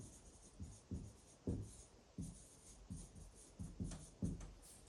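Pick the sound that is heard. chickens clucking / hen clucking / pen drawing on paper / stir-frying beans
pen drawing on paper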